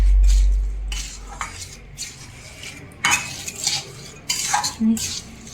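Jaggery being stirred into warm flour in a pan while making katlu paak: a metal spoon scrapes and clinks against the pan in uneven strokes, with occasional louder knocks, close and alone.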